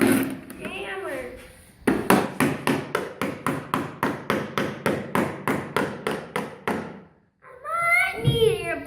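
A hammer taps repeatedly on a Gator utility vehicle under repair, about twenty sharp, evenly spaced strikes, loud and close, with voices talking before and after the run of blows.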